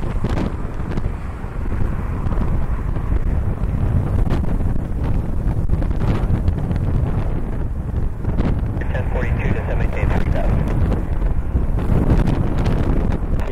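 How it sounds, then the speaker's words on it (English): Strong wind at an airport during a high wind warning buffets the microphone with a constant loud roar and rumble, with voices faintly heard partway through. "We're just expecting wind"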